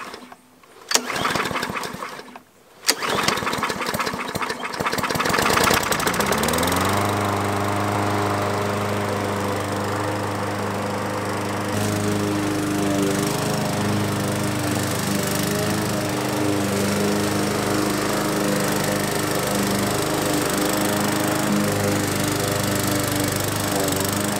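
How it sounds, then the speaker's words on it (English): A Craftsman M100 walk-behind lawn mower is pull-started after a few rough tugs, then its small gasoline engine catches and settles into a loud, steady drone that runs close up for the rest of the stretch. "I'll pull back on the safety handle and give it a pull and see what happens."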